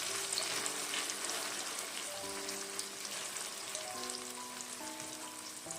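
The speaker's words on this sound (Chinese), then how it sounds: "油热之后，把鸡蛋豆腐倒入锅中，" Egg tofu frying in hot oil in a pan gives a steady, even sizzle, close and alone, with faint sustained musical tones underneath.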